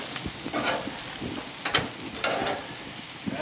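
Meat sears in bacon grease in a pan alongside cooking greens, with a steady close sizzle and intermittent pops and crackles throughout.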